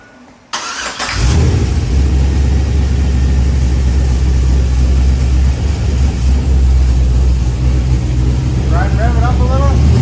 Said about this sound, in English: Okay, fire it up, Brad.